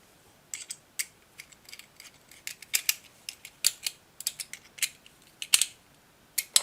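Fitting 14mm countersunk screws into a throttle lever kit, with a run of sharp, irregular small clicks and ratcheting ticks, close and fairly quiet, scattered in quick bursts.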